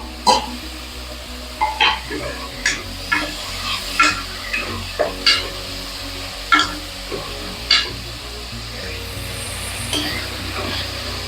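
Chopped onions and tomatoes sizzling in a pan for chicken biryani, a steady frying hiss broken by about a dozen scraping stirs of a spoon at a slow, regular pace, close and clear with no talking.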